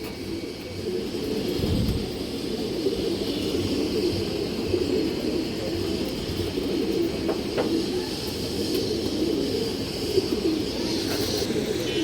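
Domestic pigeons of an old breed line, a male and female pair, cooing steadily in a loft, a continuous low murmur of overlapping coos with occasional sharper calls.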